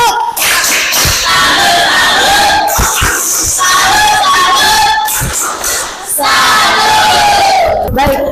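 A primary school class shouts a rhythmic clap chant together after a group presentation, loud and close, with sharp claps punctuating the unison shouting in a few bursts.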